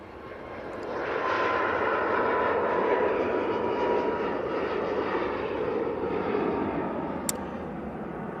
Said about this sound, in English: TUI 737 MAX 8 now departing. That's off to Budapest.